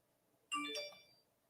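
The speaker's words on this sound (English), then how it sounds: "My phone just going off." A mobile phone briefly goes off with a short bright chiming alert tone that rises suddenly, rings for about half a second and fades, close by in an otherwise quiet room.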